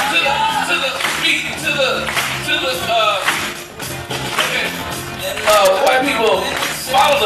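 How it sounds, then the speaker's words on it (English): A comedy show crowd claps along to a beat, a steady rhythmic patter of many hands filling the room, while a performer's amplified voice and crowd noise carry over it throughout. "Come on, everybody, clap to the beat"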